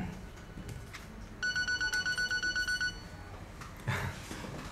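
A telephone rings with a rapid, evenly pulsed electronic trill lasting about a second and a half, near and clear over faint room noise, followed by a brief voice.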